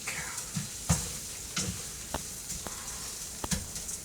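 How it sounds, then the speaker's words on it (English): Arborio rice sautéing in a pan, a quiet sizzle broken by sharp scraping stir strokes at irregular intervals; no talking. "That is 1 cup of Arborio rice. And let's let that saute a little."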